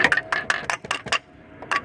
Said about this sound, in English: probably gonna have to get a little rubber hammer and just tap it a bit